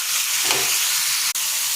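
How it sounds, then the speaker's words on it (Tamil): Tomatoes sautéing in a pan for tomato chutney give off a loud, continuous close sizzle with a faint stir midway and a brief click near the end. "தக்காளியும் வதக்கி வச்சுக்கிறேன்"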